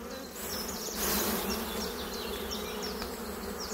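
Dense, steady hum of many honeybees swarming off a hive frame as it is shaken, a close, continuous drone that swells for a moment and then holds, with no voices.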